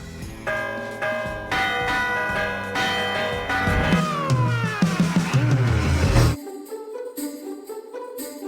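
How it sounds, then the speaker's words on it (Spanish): Church bells in Villavante, Spain ring in a quick, lively pattern of overlapping clangs, loud and close, ending with a few lighter strikes that ring out on their own. "hemos asistido a una clase magistral sobre el toque de campana"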